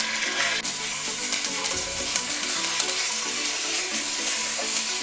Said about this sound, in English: Then we can add our chicken portions. In they go, skin side down. I want to brown these.